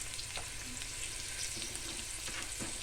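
Garlic sautés in a pan for a ginataang bamboo shoot and basa fish dish, a steady close sizzle with occasional light stirring scrapes.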